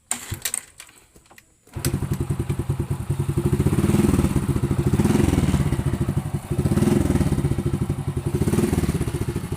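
Honda Grand motorcycle fitted with a Suzuki Shogun CDI, brief clatter of starting attempts then the engine catches and settles into a loud, close, steady idle with a rapid pulsing beat.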